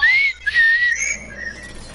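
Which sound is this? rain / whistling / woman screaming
whistling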